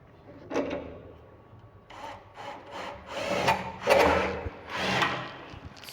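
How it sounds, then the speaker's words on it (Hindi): Screw being driven into wood during a measured installation job, heard as a series of rough scraping, grinding bursts with short pauses between them, fairly close. "चलो लगा दो स्क्रू वहाँ पर।"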